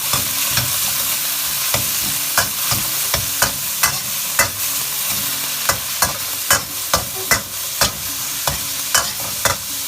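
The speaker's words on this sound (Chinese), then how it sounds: "放入肉丝，保持中大火快速的翻炒，" Shredded pork stir-fried in a generous amount of hot oil over medium-high heat, a steady loud sizzle broken by sharp rhythmic scrapes and clacks of a spatula against the wok, with no voices.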